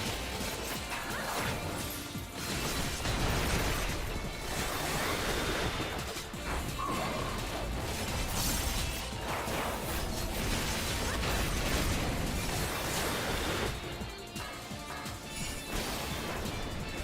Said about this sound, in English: explosion went off